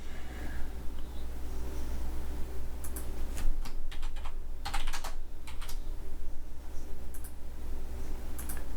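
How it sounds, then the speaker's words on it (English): A computer keyboard clicks and clacks in quick irregular bursts of keystrokes while someone takes notes, all over a steady low background hum. "I'm taking these notes as we go along here. That's why there's a clicky clacking"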